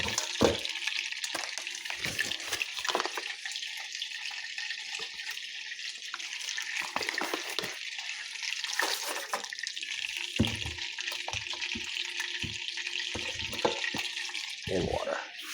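Tap water runs steadily into a bowl of apple fritter dough with lard and flour, a continuous hiss broken by brief knocks and clatters of the bowl.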